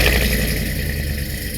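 Engine of a 1972 Chevy pickup with a full-build four-wheel-drive chassis and 640 horsepower, running steadily with a low, constant rumble that sounds close and fairly loud, with no talk.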